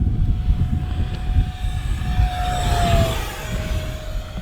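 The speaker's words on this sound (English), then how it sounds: "Let's go full throttle pass." An RC Arrows T-33 warbird jet with a 50mm electric ducted fan makes a full-throttle pass, its loud whine sweeping in pitch over steady wind rumble and ground noise outdoors, with no voices.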